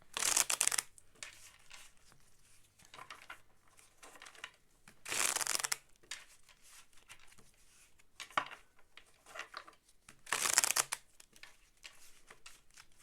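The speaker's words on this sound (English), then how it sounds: "I'm gonna shuffle these because I'm getting some repeat cards" Tarot cards shuffled by hand in three short crisp riffling bursts spaced a few seconds apart, close and fairly loud, with soft handling rustles between them and no talking.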